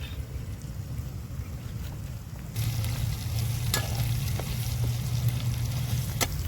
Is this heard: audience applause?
no